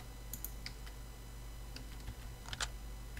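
Sparse key clicks from a QWERTY computer keyboard, a few scattered taps and short bursts, fairly faint over steady low hum.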